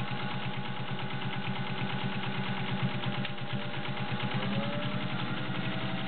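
A vintage Singer 201-2 sewing machine with a potted motor runs a straight stitch through four layers of cotton, its steady, rapid needle clatter and motor hum continuing close and evenly throughout with no talking.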